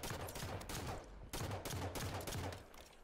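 Rapid gunfire from a shooter video game rattles in dense bursts, loud and sustained, with a brief gap partway before the shooting resumes.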